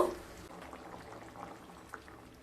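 Bottle gourd curry with coconut milk boils in a pot, giving a faint, continuous bubbling and gentle popping heard up close with no one talking.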